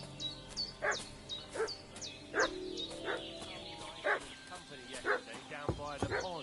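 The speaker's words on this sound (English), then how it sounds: "What's that dog making such a fuss about?" A dog barks repeatedly in the medieval game Kingdom Come: Deliverance II, with sharp barks and yips at a steady pace, some whimpering, birds faint in the background, and speech over it.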